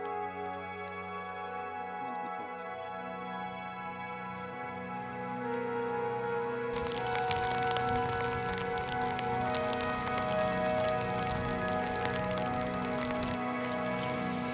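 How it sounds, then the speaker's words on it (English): Rain falling on Dartmoor during a camping hike, a steady dense patter that thickens partway through into heavier, closer drumming on a surface, continuous throughout. "It's raining now, the rain's coming."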